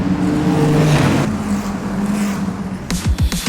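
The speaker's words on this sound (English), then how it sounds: "the cars are going to be hammering the curb" Race cars at the Gulf 12 Hours endurance race speed past close by and hammer the curb, with a loud engine drone that fades and then a burst of sharp, bumpy revving near the end.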